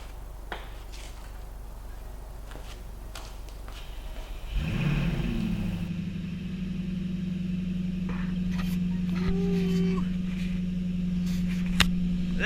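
A 2017 Jaguar F-Type engine cranks and catches at about four and a half seconds, then settles into a loud, steady running rumble close by that continues to the end.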